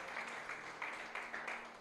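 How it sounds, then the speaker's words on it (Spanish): A church congregation at an evangelistic service applauding, a faint, steady patter of many hands clapping with rhythmic swells, heard from a distance. "Denle un aplauso a Dios por ello."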